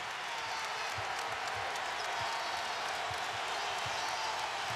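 A big indoor arena crowd at a Kentucky versus Tennessee college basketball game roars in a constant wash of noise, with faint thuds of a bouncing ball underneath.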